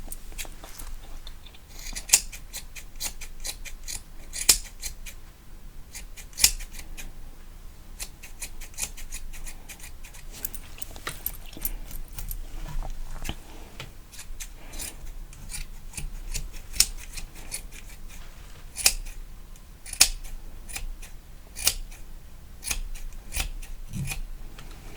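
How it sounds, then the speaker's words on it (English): Scissors snipping hair during an ASMR barber haircut roleplay, close and crisp, with steady rapid clipping and occasional sharper snips over a soft rustling background, no talking. "I'll keep quiet so you can hear some fun cutting sounds."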